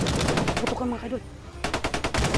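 Rapid bursts of close gunfire, a dense machine-gun rattle, break off briefly while a voice speaks, then resume.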